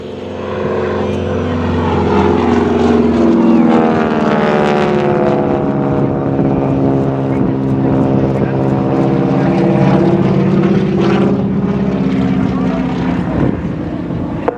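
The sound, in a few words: heavy propeller airplane performing aerobatic rolls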